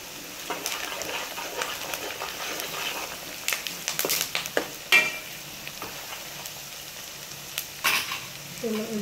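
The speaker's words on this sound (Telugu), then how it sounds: "ఇది మనం మంచిగా కలుపుకున్నాము గోల్డ్ కలర్ వచ్చే వరకు" Turmeric-coated mixture with curry leaves and salt, for a cucumber mutton curry, sizzles steadily in a pan while being stirred until golden, with scraping spoon strokes and sharp clinks rising above the frying hiss.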